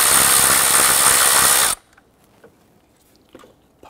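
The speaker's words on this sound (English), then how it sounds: "Loosen and remove the 10 millimeter bolt here." A ratchet or power tool loosening a 10 mm bolt on a Nissan Frontier 4.0L V6 runs loudly and continuously for under two seconds, then cuts off, leaving faint clicks and handling noises.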